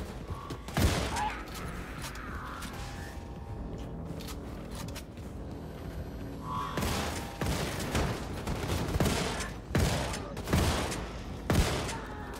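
Shotgun blasts in Wolfenstein: The New Colossus boom loudly in irregular bursts amid action noise, several heavy shots clustered toward the end, with a player talking between them.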